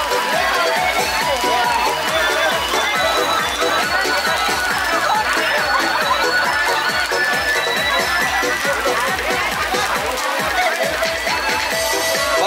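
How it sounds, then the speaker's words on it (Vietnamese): A crowd at a Vietnamese village wedding ceremony, heard as continuous dense clapping and cheering with rapid, even claps throughout, while voices call out under the applause. "Một tràng pháo tay thật lớn để cùng chúc mừng nào cả nhà mình ơi."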